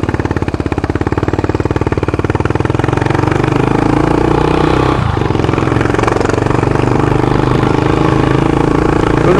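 Honda Twister CBX250 motorcycle engine running steadily on a dark public road, a loud, continuous close-up mid-pitched drone with a brief shift in tone midway and no voices over it.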